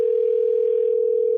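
A telephone ringing tone plays while calling someone back, one unbroken steady pitched tone held loud and clear throughout, alone without talk.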